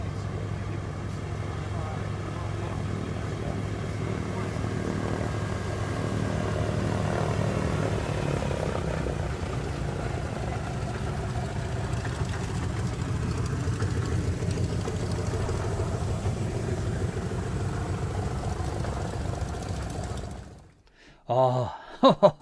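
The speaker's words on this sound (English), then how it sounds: "the sound of that wonderful Catalina" Piston engines of a Consolidated Catalina flying boat drone steadily as a loud, continuous propeller rumble for about twenty seconds, then cut away abruptly to brief clatter at the end.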